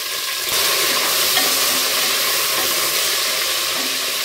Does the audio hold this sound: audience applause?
no